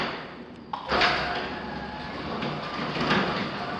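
An overhead door closes on command, a sharp mechanical clunk at the start followed by a steady motor-driven rolling hum and rattle that carries through to the end, fairly close and moderately loud.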